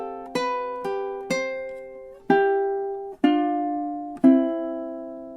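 Ukulele plucking measures 21 and 22 of a gentle fingerpicked lullaby, six clear notes struck one after another in a slow, steady rhythm, each ringing out and fading before the next, close and alone.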